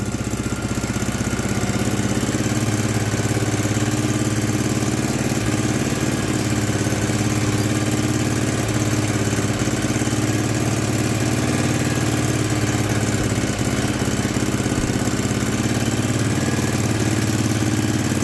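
An old 1970s snowblower engine idles steadily with the choke on, a low, even chug, loud and close, running on without change or voices.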